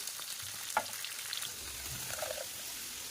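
Prawns frying in hot oil in a pan alongside potato and pointed gourd: a soft, continuous sizzle with a brief clink near the start and faint stirring, quiet and close, no talk.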